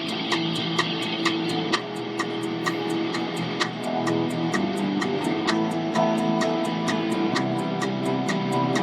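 Bass and electric guitar from a songwriting session play together in a dense, driving riff, with a steady ticking click track pulsing on top throughout.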